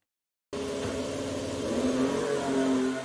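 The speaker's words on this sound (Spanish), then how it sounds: "ese sonido Ferrari del motor." A high-pitched Ferrari SF-26 Formula 1 engine revs loudly and steadily after a brief silence, its strained whine rising slightly as it holds.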